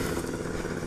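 A 50cc four-stroke moped engine running close by, a brief, loud, steady buzzing putter with a rattly edge and no voices.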